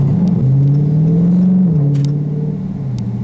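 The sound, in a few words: Dodge Charger Scat Pack accelerating and shifting gears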